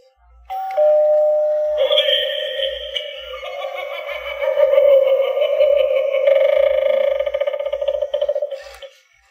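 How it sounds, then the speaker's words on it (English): An animated Halloween eyeball doorbell plays tonal chimes and warbling effects with a spooky voice over them, loud and close, followed by a mechanical whir and rattle. "Then they have this animated eyeball doorbell again."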